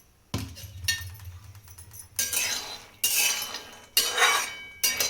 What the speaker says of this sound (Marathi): शेंगदाणे भाजून घेते, थोडे थोडे भाजून घ्यायचे म्हणजे चांगले भाजतात.